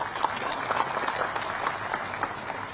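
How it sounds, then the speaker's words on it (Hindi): An audience at a seminar and dialogue event in Pantnagar, Udham Singh Nagar claps steadily, a dense wash of many hands held at an even, moderate level. "इनके लिए ताली बजा दीजिए।"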